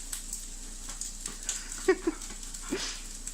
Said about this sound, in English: Too many doggies.